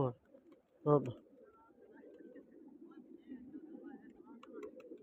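Soft, steady pigeon cooing murmurs throughout at low level, with a couple of brief voice bursts near the start.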